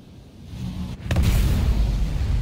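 Size 9 photon torpedoes fired at an Aurora MR starter ship in a space combat video game erupt into one sharp blast, followed by a loud, deep, rumbling roar that holds to the end, with no talking.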